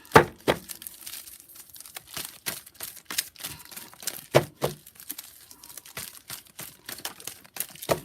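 Playing cards riffle and snap in quick bursts of crisp flicking and papery rustling, close by, with no voices.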